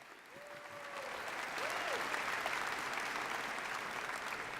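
Graduates applaud at a university College of Education and Human Services commencement ceremony, a broad crowd of clapping that swells and holds steady, with a few whoops rising above it.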